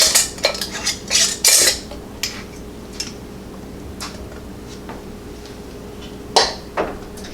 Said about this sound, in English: I'm going to fill my other 2 jars